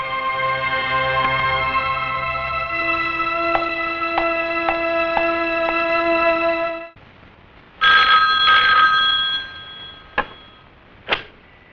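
A telephone rings at a police station, a loud electronic ringtone repeating in steady bursts for several seconds, then falling quiet before a few short sharp knocks and clicks close by.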